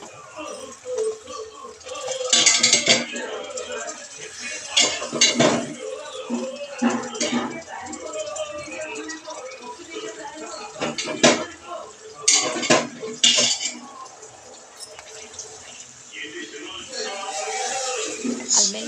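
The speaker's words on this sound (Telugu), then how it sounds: "బాగా కలుపుకోవాలి." Liver curry with ginger and turmeric being stirred in a pot, a spoon scraping and clinking against metal in repeated bursts, with brief kitchen clatter in between and some speech now and then.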